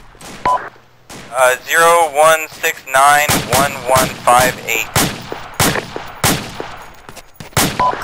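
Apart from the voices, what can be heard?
gunfire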